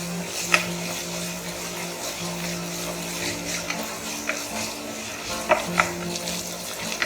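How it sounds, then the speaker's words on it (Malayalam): Onions cooking in a pot for a paneer biryani, with a steady low sizzle and frying hiss under repeated scraping stirs and occasional sharp clinks of a utensil against the pot, close by. "സവാള ഒന്ന് കളർ മാറുന്ന വരെ നമുക്കിതൊന്ന് കുക്ക് ചെയ്യാം."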